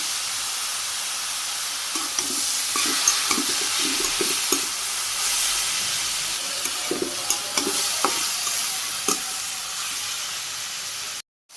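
Boal fish cooks in a pan with turmeric, chili, salt and ginger, giving off a continuous frying hiss and steam with intermittent stirring scrapes and taps. The sizzle stays close and steady, and no voice is heard over it.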